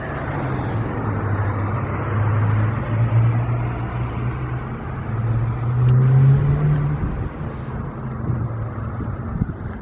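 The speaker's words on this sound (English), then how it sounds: "Yeah, that's an old race car." An old race car drives past at a vintage Gulf gas station, its engine a steady low rumble that swells near the middle and then eases off, with no talking over it.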